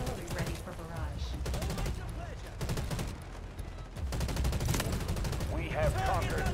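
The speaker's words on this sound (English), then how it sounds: "Artillery ready for barrage." An artillery barrage in the video game Delta Force: Hawk Ops, with rapid overlapping gunfire and heavy blasts rolling on continuously while a voice talks over the battle.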